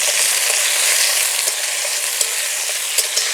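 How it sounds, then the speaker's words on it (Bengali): Ridge gourd sizzles in hot oil in a wok over a high flame, a steady loud frying hiss with a few sharp crackles and pops, no voices. "ঝিঙে ভাজার সময় উনুনের জালটা বাড়িয়ে দেব।"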